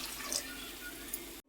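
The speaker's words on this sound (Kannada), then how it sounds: "ನೋಡಿ ನೀರು ಹಾಕ್ಕೊತೀನಿ, ಎಷ್ಟು ಬೇಕಷ್ಟು ನೀರು ಹಾಕ್ಕೊಂಡು." Water pours into a cooking pot for mutton keema ball gravy, a steady, close splashing stream that cuts off abruptly just before the end.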